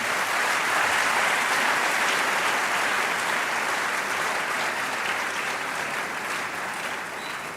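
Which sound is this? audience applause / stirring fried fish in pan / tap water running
audience applause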